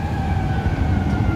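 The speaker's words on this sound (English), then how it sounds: "And then you hear sirens now." Emergency vehicle siren wailing steadily over heavy downtown Chicago street traffic rumble, moderately distant and sustained throughout.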